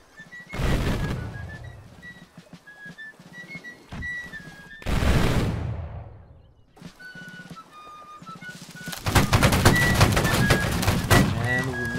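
Musket shots in the Napoleonic-era game Battle Cry of Freedom: several sharp, booming reports, one close and loud, followed by a dense crackling volley near the end, with faint whistling tones between them.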